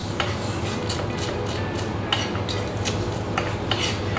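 A knife julienning spring onions on a chopping board for a bhaji, rapid and steady tapping cuts ticking along continuously at close range with no talking.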